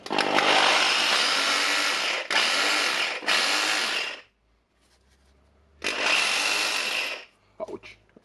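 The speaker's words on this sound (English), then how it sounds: "The drilling works with the hammer." Milwaukee PLH 32 XE hammer drill running and hammering, a loud harsh buzzing roar in several long bursts with short breaks, close by, ending in a few brief knocks.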